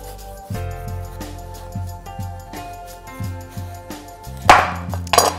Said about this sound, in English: The first thing I'm gonna do is cut the stem off